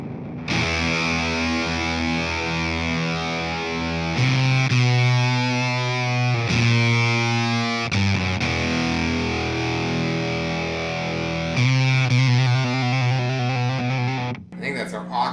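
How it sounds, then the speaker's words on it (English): A Fender guitar pedal's broken sound setting, with a built-in noise gate chopping the tone, gives loud, distorted, spluttery guitar chords that cut in and out in bursts with abrupt gaps, ending in a sudden drop. "the broken sound, which actually has a noise gate built into it to chop it up and give it that spluttery sound"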